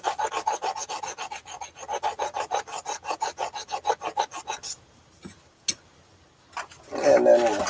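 A c.1890 parlor guitar repair: wood being filed in a steady run of quick, even rasping strokes, close and loud. It stops, a couple of sharp clicks follow, and a voice starts briefly at the end.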